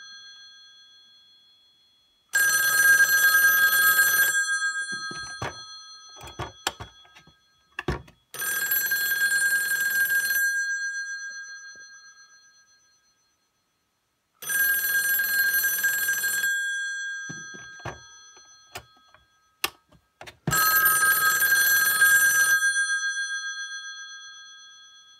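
A Western Electric 500 telephone bell rings with a US cadence in four long metallic bursts separated by pauses, with a few clicks and knocks in between.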